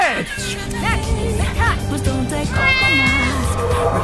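Several short cat meows in Skyrim, with a rising and falling tone, sound over a busy game soundscape, with a steady mix of background noise and tones.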